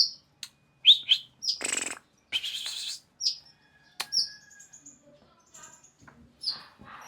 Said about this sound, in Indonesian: Ini dia burungnya.